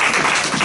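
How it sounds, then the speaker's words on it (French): A church congregation breaks into a brief, steady burst of applause, a dense wash of clapping that fills the moment with no voices over it. "Acclamons la parole de Dieu."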